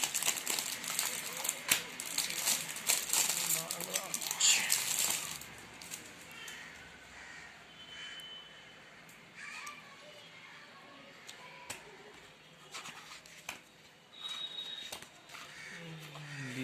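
Crinkly plastic packaging is torn and peeled off a comic book during an unboxing, loud and busy for the first few seconds, then only sparse soft rustles and handling clicks follow.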